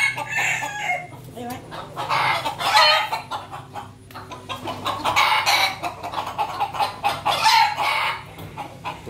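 Chickens in a coop clucking and calling close by, several birds overlapping in an uneven, busy chorus over a low background hum.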